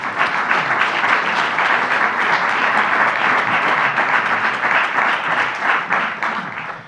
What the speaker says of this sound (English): I'd love to just give another round of applause to our speakers.